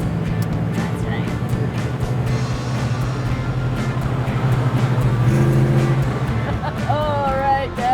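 A car engine runs steadily in second gear while driving, a constant low rumble with road noise beneath, and voices talking over it.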